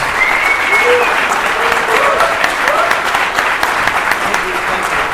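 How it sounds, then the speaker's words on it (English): A convention crowd at a reunion panel for John Carpenter's The Thing applauds the guests with loud, sustained clapping throughout, with scattered whistles and cheers rising above it. "Let's give these gentlemen a round of applause."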